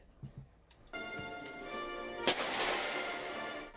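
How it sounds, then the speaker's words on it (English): An Arkansas Army National Guard cannon salute fires at Camp Robinson Maneuver Training Center: a single sharp, loud boom midway. It cuts through a sustained tonal backdrop, with a few fainter knocks before it. "A cannon salute pierces the air at the Camp Robinson Maneuver Training Center"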